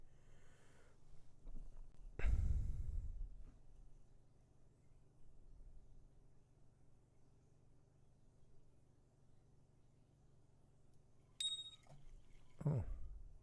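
A fish bite bell rings out in the Fishing Planet game, a short bright ding with a second one shortly after, set over quiet ambient water and low background noise.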